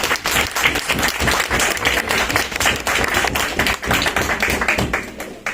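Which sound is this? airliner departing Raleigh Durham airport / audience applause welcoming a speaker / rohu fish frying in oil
audience applause welcoming a speaker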